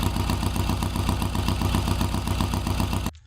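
A 1967 Norton Commando with a rubber-mounted 750cc parallel twin engine runs steadily and close by, giving an even, pulsing mechanical drone with no speech before it cuts off abruptly near the end.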